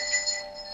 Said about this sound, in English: I got some bells